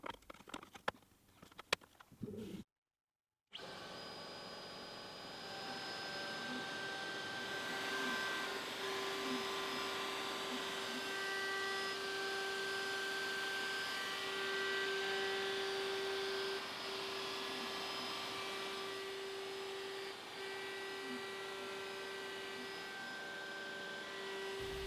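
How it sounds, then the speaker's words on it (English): A CNC router engraves offset lines into plywood with a 60-degree V bit. After a few sharp clicks and a short silence, a steady high spindle whine with a constant cutting hiss runs loud and unbroken, with no talk. "now I'm changing to a 60-degree V bit to engrave the offset lines"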